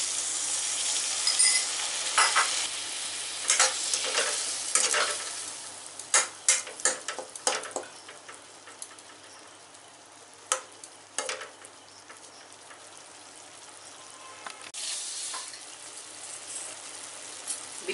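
Masala mixed with a little water frying in a pan, a low sizzle broken by sharp scrapes and clatters of stirring, some in quick bursts, close by and without talk.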